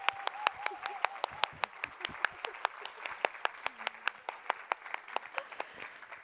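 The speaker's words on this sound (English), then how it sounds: "Now we go to the applause." Applause from a small audience after a brief demonstration on stage, sharp separate claps in a steady rhythm of roughly thirty beats, fairly close and moderately loud, with a faint voice briefly underneath.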